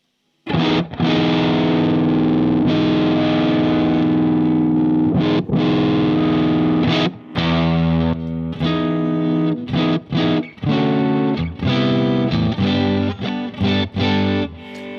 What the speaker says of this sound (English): if you're wondering why I have breakup going on, it's because of my plexi amp. It's never entirely clean.